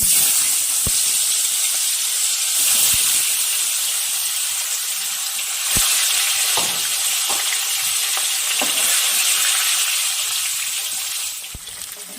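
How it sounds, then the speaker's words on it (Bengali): Chitol fish coated in salt and turmeric sizzles and crackles in hot mustard oil, a steady loud frying hiss with occasional sharper pops and spatters. "আমি লবণ হলুদ মাখানো মাছগুলোকে ভেজে নিব।"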